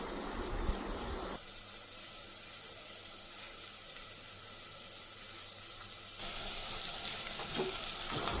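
Onions and drumstick pieces fry in a pan with a continuous sizzle and some stirring. The frying swells louder at the start and again toward the end.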